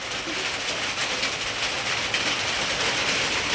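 Rain pours down steadily near a duck pen on a small farm, a broad, even wash of drops that holds close and constant throughout with no talking.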